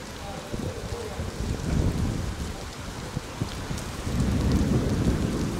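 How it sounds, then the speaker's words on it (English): Heavy rain driven by wind pours steadily through a thunderstorm in Liverpool, New South Wales, with low thunder rumbling beneath and the downpour swelling louder near the end. "The wind is sweeping the rain this way"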